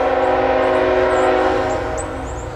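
CSX freight train led by an ET44AH with a Union Pacific SD70ACe and an ES44AH at the rear, rumbling loudly and close with a sustained horn-like tone and high wheel squeals.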